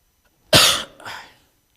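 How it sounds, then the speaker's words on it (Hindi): A man gives a single sharp cough followed by a softer second cough, close and alone in a quiet room. "खांसी मुझे बहुत आ रही है।"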